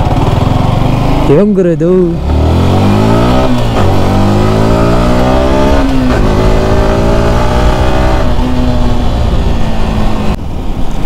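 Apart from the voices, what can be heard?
vehicle engine running while being driven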